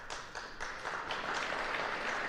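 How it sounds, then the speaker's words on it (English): Audience applause at a city State of the City address, a dense steady wash of many hands clapping that swells slightly and continues without pause throughout. "That applause belongs to them."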